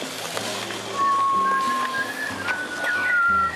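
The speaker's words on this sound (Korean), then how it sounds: "한국으로 떠나오기 1년 전 아들에게 장난스레 가르쳐줬던 휘파람" A person whistles a few short, clear tones, separate notes and brief phrases, over soft background noise and low rumble, without speech.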